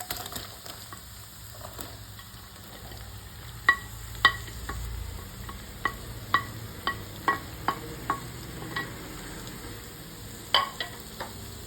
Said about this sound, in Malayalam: അതിനകത്തോട്ട് നമുക്ക് സവോളയും ചെറിയ ഉള്ളിയും കൂടെ അരിഞ്ഞു വെച്ചിരിക്കുന്നത് ചേർക്കാം